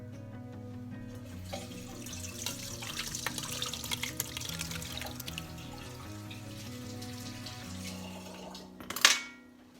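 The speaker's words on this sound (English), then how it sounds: "Go wash your hands." Tap water runs steadily into a sink as hands are washed after handling a clabber culture for cottage cheese, with a louder splashing burst near the end over a faint low background hum.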